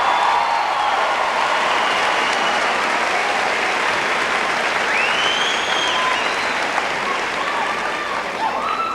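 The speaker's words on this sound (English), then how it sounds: "How about a round of applause for yourself?" Graduates of the class of 1993 applaud themselves at a university graduation ceremony, a dense, loud and sustained wash of clapping from a large crowd filling a big hall, with faint whistles or cheers rising above it.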